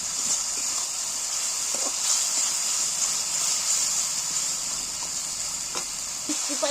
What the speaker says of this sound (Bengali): মশলাটা কষে দিয়েছি